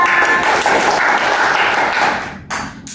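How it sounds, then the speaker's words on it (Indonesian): A university micro-teaching class applauds, the dense clapping of many students loud and continuous for over two seconds before thinning into a few scattered claps. "bagus, betul sekali, tepuk tangan."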